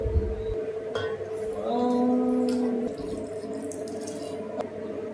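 Water runs and pours steadily into a container for pani puri water, its pitch shifting as it fills, with a few light clinks.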